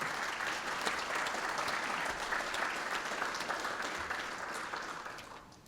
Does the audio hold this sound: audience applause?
yes